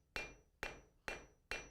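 Four sharp, evenly spaced blacksmith hammer blows ring out on hot metal at a forge, each a loud clang with a quick decaying ring, close and with no talking.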